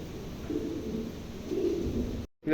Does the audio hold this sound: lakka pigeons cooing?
yes